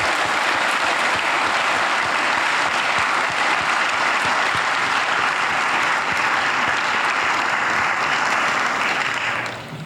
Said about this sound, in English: please give a big round of applause for the custodian that worked his butt off